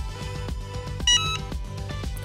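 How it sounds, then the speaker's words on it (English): A Cricut hat press sounds a steady electronic beep of about a quarter second once it reaches temperature, heard over background music. "When the hat press has reached temperature, the power button will turn green and a beep will sound."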